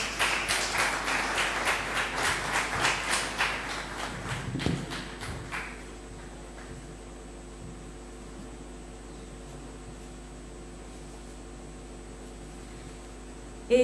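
Applause from an audience at an art prize ceremony, a few seconds of scattered clapping that thins out and fades, leaving quiet room tone.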